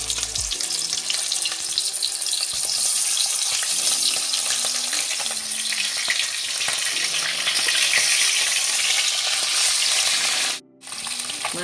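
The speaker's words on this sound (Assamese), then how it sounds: "এতিয়া তেল গৰম হৈ গ'ল, এইফালে মই মাছখিনি ভাজি ল'ম।" Large koi (climbing perch) pieces fry in hot oil in a home kitchen, giving a steady, close, crackling sizzle that carries on without talk, with a brief dip near the end.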